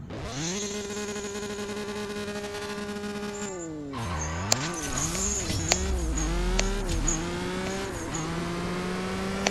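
Ferrari F12 Berlinetta racing in CSR2 video game, with a loud engine revving and rising through gear shifts, its pitch dropping at each change, amid tire squeal and game sound effects.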